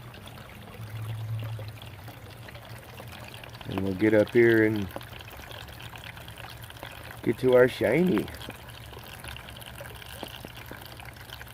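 Water runs steadily through a homemade mini sluice used to wash dirt for crystals and gold, a constant low flowing wash with someone talking briefly over it twice.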